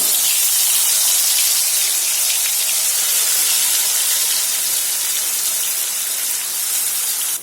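Ground masala paste hits hot oil with mustard seeds and cumin and sizzles loudly, producing a dense, continuous hiss that holds steady from start to finish with no talking.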